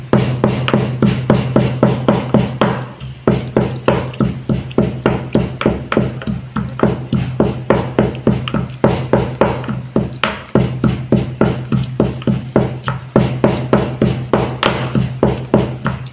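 Fennel seeds are pounded for a homemade digestive mix, a fast, steady run of loud, close thuds from repeated strikes, with a short break partway through.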